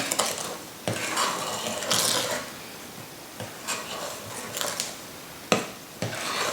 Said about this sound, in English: Then I'm going to incorporate some of the flour, probably in 3 batches. Give it a gentle mix around.